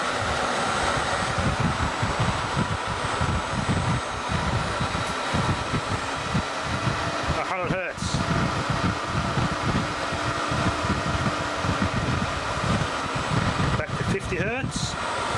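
A three-phase 4 horsepower motor runs at 80 hertz on an undersized 3 horsepower drive, making a steady, loud, continuous whirring hum with brief shifts in tone, close by.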